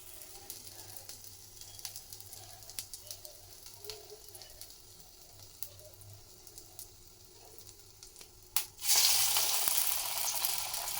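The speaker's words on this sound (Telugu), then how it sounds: "ఆయిల్ అయితే హీట్ అయిపోయింది ఇంకా వడల్లో అయితే వేసేసుకుంటున్నాను" Sweet corn vadas dropped into hot oil for deep-frying: a faint crackle and light clinks for several seconds, then a sudden loud, steady hissing sizzle close by that carries on to the end.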